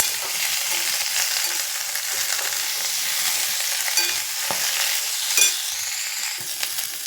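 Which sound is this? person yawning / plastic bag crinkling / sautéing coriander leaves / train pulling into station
sautéing coriander leaves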